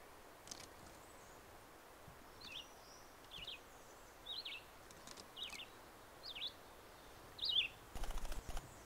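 A pair of nuthatches gives short, sharp, high calls at irregular intervals over faint outdoor ambience, with a few louder notes and a brief rustle near the end.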